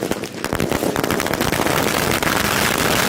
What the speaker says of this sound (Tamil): அடுத்ததான் பட்டாசு கொளுத்துனதும் அது தாறுமாறா வெடிச்சு சேருது